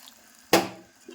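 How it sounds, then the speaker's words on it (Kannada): Water is poured into a pan of spiced cooking mixture seasoned with turmeric powder: one sudden splashing pour that fades out within half a second, close and fairly loud, with no talk. "ಇದಕ್ಕೆ ನಾನೀಗ ನೀರು ಹಾಕೊಲತ್ತೀನಿ ರೀ ಒಂದು ಸ್ವಲ್ಪ"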